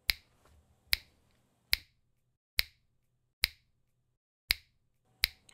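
Seven crisp finger snaps land about once every 0.8 seconds, each a sharp, very close transient that dies away instantly into near silence.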